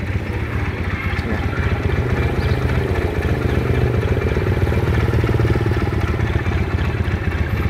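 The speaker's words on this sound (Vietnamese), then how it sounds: "Hiện tại là máy đang nổ nha. Nó là 150 kích nước." A 150cc water-cooled Rebel motorcycle engine idles steadily with a smooth, even low throb, close by and moderately loud throughout, with no talking.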